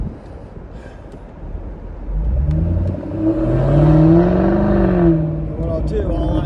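A 2021 Jaguar F-Type R exhaust roars as the engine revs up through paddle shifts, its tone climbing and stepping between gears, loud and close.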